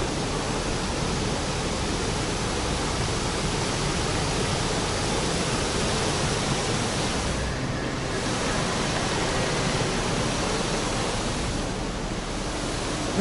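Water pours steadily into a canal lock in Paris, a loud, continuous broadband rush that holds at one level from start to finish with no voices over it.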